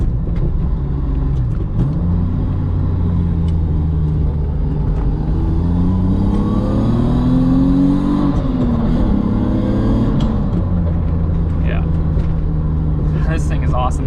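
A manual car with closely spaced pedals drives through thick smoke from California fires, its engine a loud, steady rumble that swells and falls with revving and gear changes, with interior noise and no clear talk.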